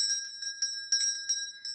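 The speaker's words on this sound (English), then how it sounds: "I figured out how to ring my bell." A small bell is rung repeatedly, giving about eight bright, quick metallic dings with a lingering ring, fairly quiet and alone with no talking.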